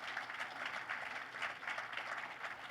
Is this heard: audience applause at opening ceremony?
yes